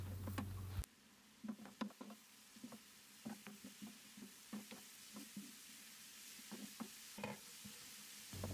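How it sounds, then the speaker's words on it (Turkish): Onions sautéing in a generous amount of olive oil for a Turkish kaldirik greens dish, giving a soft steady sizzle broken by repeated scraping stirs, close and fairly quiet with no talking. "Soğanın üzerine alarak bolca zeytinyağında kokusu çıkana kadar kavuralım"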